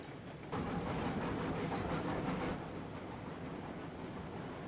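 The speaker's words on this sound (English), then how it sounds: "So I'm going to back the train in, start unloading some cordwood." A train backing slowly into a siding in the Railroads Online game, steady rolling rumble and hiss at close range, louder at first then settling to an even drone.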